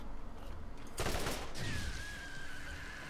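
Gunfire in the Borderlands video game aimed at the player, a dense burst of shots around the middle of the clip over a steady game background, followed by a lingering whine.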